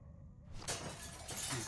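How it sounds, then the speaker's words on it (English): A window shatters after a bat strike in The Walking Dead game, a sudden burst of breaking glass with scattered tinkling fragments, close and fairly quiet, with no voices. "Use the bat to shatter that window so you can reach in"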